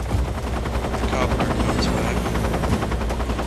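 Aircraft in Metal Gear Solid 3, a loud continuous rotor-like thrum with rapid pulsing that fills the entire stretch, close and steady, with no talk over it.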